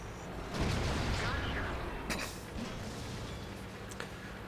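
Artillery fire in World of Tanks, heard during a match in a T110E4 tank destroyer: a heavy boom swells early, then the rumble fades with scattered sharper cracks, and a voice is faintly present underneath.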